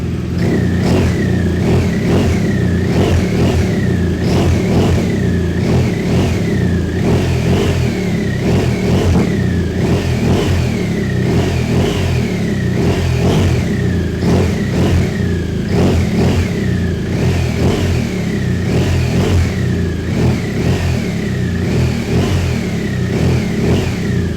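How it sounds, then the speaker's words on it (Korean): A 2018 BMW R1200RS boxer-twin motorcycle with an Akrapovic exhaust revs again and again, close and loud. The engine rises and falls in a steady rhythm for the whole stretch, with no talking. "R엔진이지만 아크라포빅 머플러가 장착이 되어 있다 보니까 아무래도 배기 사운드가 파워풀하면서 타는 즐거움도 한층 더 업그레이드가 되는 것 같습니다."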